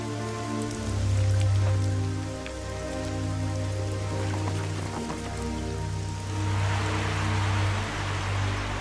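Steady rain falls in African wilderness, a continuous hiss of drops on surfaces with a low hum underneath, unbroken and moderately loud throughout with no speech.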